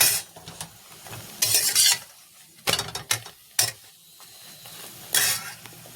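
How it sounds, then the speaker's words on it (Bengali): Parathas frying in a pan with very little oil, bursts of sizzling and scraping clatter from a spatula coming and going in short clusters, close and fairly loud, no talk. "এই দেখো খুব কম তেল দিয়ে দিয়ে ভাজছি"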